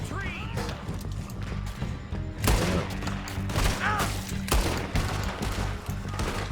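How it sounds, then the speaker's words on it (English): Gunfire in Red Dead Redemption 2 while defending an area against attackers: several sharp, loud shots at irregular intervals over a continuous game soundscape, with a voice talking throughout. "Just going to go for headshots to try and save some ammo."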